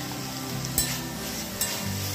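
Radish and amla chutney with salt and jaggery powder simmers and sizzles steadily in a pan, with a soft continuous bubbling hiss and a couple of faint clinks from stirring.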